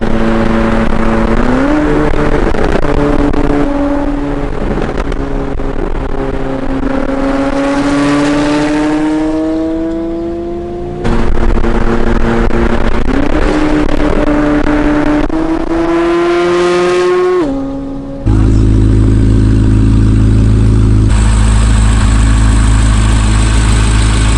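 A loud Corvette C8 Z06 with equal-length headers and aftermarket exhaust revs up repeatedly in long throaty sweeps, dropping back between pulls, then settles into a rumbling idle.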